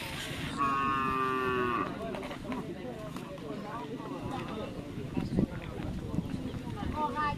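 Cattle at a bull race practice in Pamekasan, one loud drawn-out moo near the start, then a busy outdoor crowd murmur with people talking.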